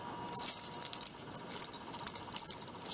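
Keys jangle and clink continuously at close range, a bright metallic rattling with small irregular shakes throughout, no talking over it.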